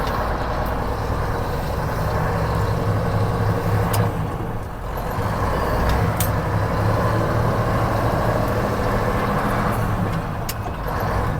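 A Mack R600 truck engine drones loudly and steadily as it pulls away after startup, a constant low rumble with a brief dip in the middle, alone without speech.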